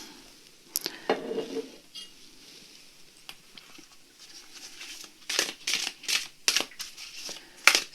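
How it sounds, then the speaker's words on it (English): A deck of oracle cards is shuffled in quick, crisp bursts of riffling and flicking, close and fairly quiet, with brief pauses between bursts. "let's shuffle"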